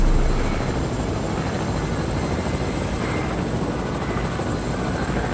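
A helicopter in the video game Fortnite flies close by, its steady throbbing rotor drone holding a constant level throughout with no voices over it.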